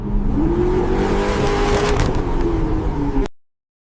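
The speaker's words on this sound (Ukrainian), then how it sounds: "То не грімське, то мій порше реве." A Porsche engine roars loudly nearby, revving with a rising and falling whine before cutting off abruptly.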